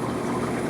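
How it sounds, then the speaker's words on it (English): Water runs through a brine shrimp siphoning hose, a rigid line made with airline tubing, in an aquarium setup: a steady, close, continuous gurgling flow with no pauses. "We get our handy dandy brine shrimp siphoning hose."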